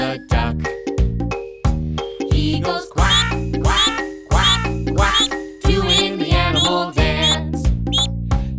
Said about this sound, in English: Our friend the duck. He goes quack, quack, quack,